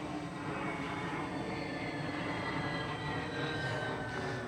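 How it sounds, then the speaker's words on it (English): An airplane passes overhead as a steady, broad roar at moderate distance, holding a constant level throughout with no speech. "airplane's about to come over."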